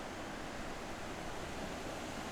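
Ocean waves breaking at Blackrock make a steady, dense wash of surf, continuous and even, with no distinct individual crashes.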